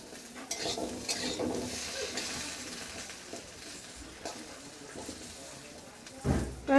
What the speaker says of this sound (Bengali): আলুটাকে আমি একটু লাল লাল করে ভেজে নেব